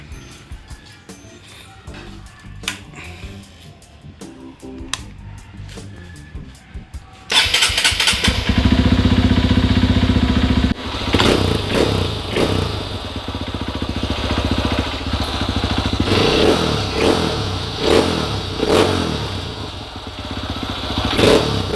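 Honda CRF150L motorcycle fitted with an Exos R6 aftermarket exhaust cranks to life after a quiet stretch, then idles loudly and blips through repeated revs, close and alone with no talking.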